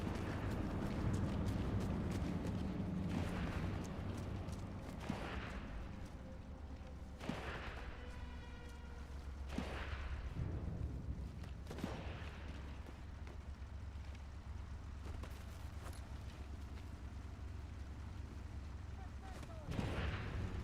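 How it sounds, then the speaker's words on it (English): Gunshots ring out in the Sniper Elite 5 video game: about half a dozen sharp, fairly distant cracks spread irregularly across a faint, steady background rumble. "Somebody is shooting."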